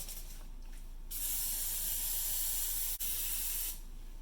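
Cooking spray hissing onto a brownie pan to grease it: one steady, close aerosol burst lasting a few seconds, briefly interrupted, then cut off.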